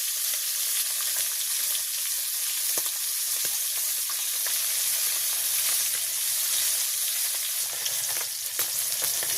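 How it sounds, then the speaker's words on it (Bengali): Tengra fish frying in a pan in a village kitchen, a steady close sizzle with faint crackles and occasional soft stirring clicks, no talking. "তো আমার ট্যাংরা মাছগুলো ভাজি হয়ে গেছে"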